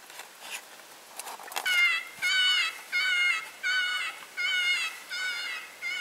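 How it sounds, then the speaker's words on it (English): An electronic predator call plays a cottontail rabbit distress sound: a high, wavering squealing cry repeating in a steady rhythm of six or seven bursts, loud and fairly close, after a few seconds of faint background noise. "Okay, that's the cottontail distress."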